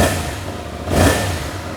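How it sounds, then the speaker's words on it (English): Yamaha MT07 motorcycle engine idling inside a shop with a loud, burbly, close exhaust note, swelling into one brief rev near the middle before settling back. "Let's hear how this motorcycle sounds really quick too. We'll start it up here in the shop."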